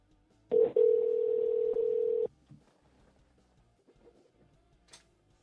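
Steady telephone dial tone on a landline-style call, lasting under two seconds after a brief click, then a few faint handset clicks and rustles in near silence; no one speaks.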